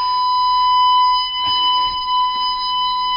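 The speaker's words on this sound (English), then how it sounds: "the first thing you'll hear is the alarm going on the console behind me, which tells me that the exciter is not locked" An exciter-not-locked alarm on an R161 military radio console sounds as a steady, piercing electronic tone held continuously, with faint shuffling and handling noises underneath.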